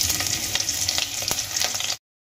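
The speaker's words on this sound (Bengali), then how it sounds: "লঙ্কা আর গোটা জিরেগুলো আমি ভেজে নিয়েছি" Whole cumin seeds and two slit green chilies tempering in hot oil, a steady close sizzle with a few light stirring clicks, cutting out briefly near the end.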